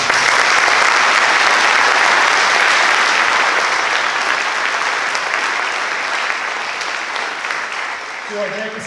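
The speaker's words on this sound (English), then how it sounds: "Let's give them all one more big round of applause." Sustained, loud applause from a large audience at a high school senior awards ceremony fills the whole stretch, easing slightly toward the end.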